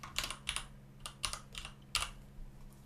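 A keyboard shortcut, Ctrl+Shift+C, is pressed on a computer keyboard during video title editing. Roughly seven quiet, close key clicks fall in a loose, uneven rhythm.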